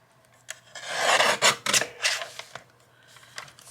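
Paper being trimmed for a handmade journal ephemera piece gives a close, dry scraping and rasping for a couple of seconds, with light taps on either side.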